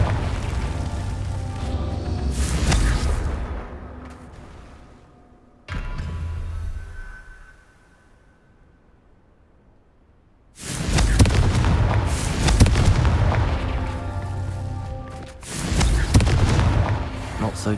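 Loud booming blasts from the Confringo fire spell in Hogwarts Legacy, one burst followed by a quieter stretch, then heavy rumbling explosions returning near and full.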